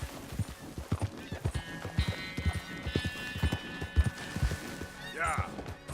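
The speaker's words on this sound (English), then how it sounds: "That horse looks like a fine traveling companion." Horse hooves clip-clop in a steady rhythm close by in Red Dead Redemption, with a whinny partway through, while a person talks over the sound.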